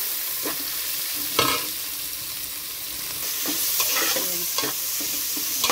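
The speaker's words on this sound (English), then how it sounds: "I'm just frying it up a little pepper half cooked now" Vegetables and pepper sizzle steadily in a hot pan while a utensil scrapes and stirs them a few times, close by.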